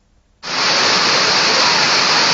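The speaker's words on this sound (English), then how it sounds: "Look at the rain coming down." Heavy rain in Sierra Leone starts abruptly after a moment of near-silence and then becomes a loud, steady, dense roar of pouring water.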